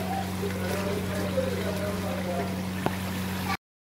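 Chopped tomatoes frying in a pan for a chicken tomato karahi, giving off a steady, even sizzling hiss over a low constant hum, with a faint voice in the background before the sound cuts off abruptly.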